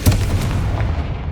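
A Confringo explosive spell goes off in the video game Hogwarts Legacy, a short booming blast with a sharp initial thump and a low rumbling tail, loud and close.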